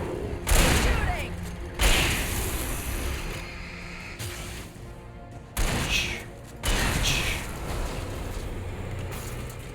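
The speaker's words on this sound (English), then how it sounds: "Shooting!" Gunfire in the video game Alan Wake, several loud booming shots and impacts spaced a few seconds apart, each trailing off into dark ambience, with a voice talking between them.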